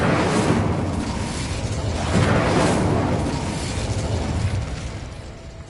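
Incendio fire spell cast in the Hogwarts Legacy game, a sustained roaring whoosh of flame that swells around two seconds and then slowly tapers, loud and alone without talk.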